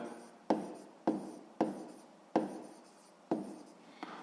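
A pen writes on paper while working a sixth-grade math exercise, with short scratchy strokes that each begin with a sharp tap and then fade, repeating roughly every half second, close and quiet.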